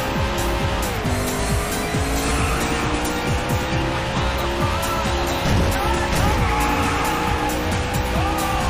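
Race car engines roar and tires squeal in the arcade racing game Daytona USA, loud sustained engine whine with rising and falling pitch sweeps and skidding, with no clear speech.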